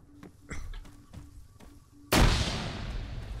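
A grenade in Arma 3 goes off with one sudden loud, close blast that decays into a long rumbling tail, after several sharp distant gunshots and thumps.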